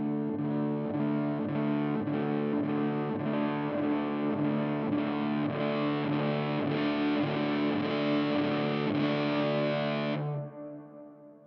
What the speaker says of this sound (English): Here's reverb all the way down and then the distortion side all the way up.